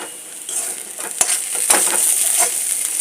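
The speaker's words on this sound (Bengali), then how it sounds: "লো ফ্লেমে আস্তে আস্তে করে এটাকে টানাতে হবে" Mashed maan kochu (giant taro) paste being stirred slowly in a pan over a low flame, giving a soft steady sizzle with a few scraping strokes, close and fairly quiet, with no talking.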